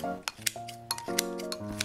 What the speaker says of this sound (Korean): 잘 익은 김치는 그릇에 한 대 모아 가위로 편하게 잘라주고